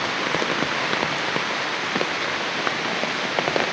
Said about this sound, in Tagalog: sana tumila na din yung ulan at matapos na itong bagyong ito